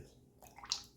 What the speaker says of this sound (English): Let's get a little cold water on here.